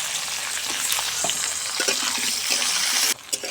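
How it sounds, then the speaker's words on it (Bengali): Continuous sizzling of onions and potatoes frying together in hot oil, close up, with scraping stirs and a brief drop in sound near the end. "দিয়ে দিচ্ছি পেঁয়াজ আলু দুটো একসঙ্গে খুব ভালোভাবে ভাজা হয়ে যাবে"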